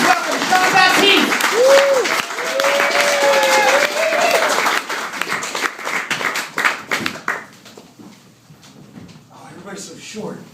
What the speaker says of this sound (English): Clap your hands for this next comic.